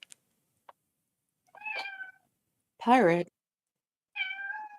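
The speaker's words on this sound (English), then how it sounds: "I hear a kitty." A house cat meows three times indoors with pauses between, the middle cry loudest and closest; a brief spoken word comes early.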